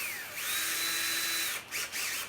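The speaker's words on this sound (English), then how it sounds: "the easiest way to do this is once you've actually marked them, pre-drill the holes" A power drill bores pilot holes into a piece of timber: a rising motor whine holds steady for about a second under load, then cuts out, followed by two short bursts of the bit spinning up again, close and clear.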